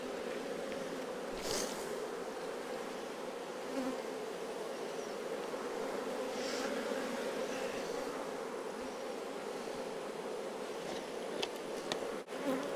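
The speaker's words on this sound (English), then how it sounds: "Plenty of bees in all of them" A dense, continuous buzz of many honey bees in open hives during colony splitting hums steadily close by, with a few brief clicks and knocks.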